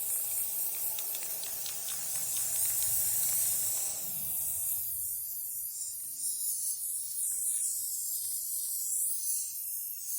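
A spray paint can hisses continuously while painting a pellet gun, the spray shifting partway through to a thinner, higher-pitched hiss that carries on steadily.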